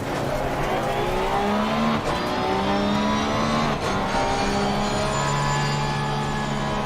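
Several race car engines roar at once in a Barcelona race in a racing game, a Lamborghini among them, loud and steady with rising and falling revs as gears shift, with no talking.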